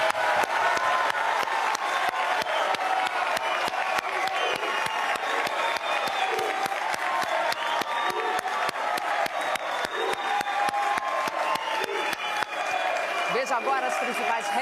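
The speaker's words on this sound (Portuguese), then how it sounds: "uma salva de palmas para os nossos 8 debatedores" A studio audience at a Brazilian televised political debate applauds the eight candidates, sustained dense clapping at a steady, loud level for the full stretch, with a few scattered cheers mixed into the crowd.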